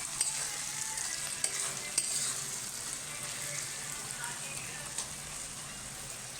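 Masala okra being stirred in a pan, a steady broadband sizzle of frying with occasional sharp clicks of the spatula against the pan, moderately loud and continuous with no talk.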